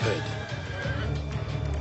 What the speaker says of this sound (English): They're some of the most sought-after racehorses in the world.